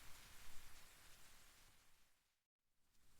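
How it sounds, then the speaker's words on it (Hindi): Steady rain falls on a car, a dense hiss of drops heard from inside, broken by a brief moment of silence near the end before the patter resumes. "सुनो, बारिश की आवाज कितनी प्यारी है।"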